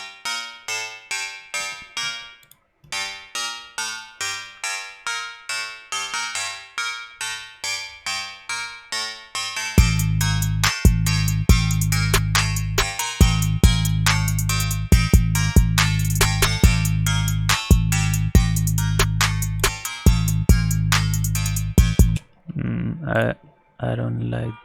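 A trap beat melody built in LMMS plays as bright, repeating synth notes, first alone in a sparse pattern, then with heavy booming bass and crisp percussion joining for a dense, loud stretch before cutting out.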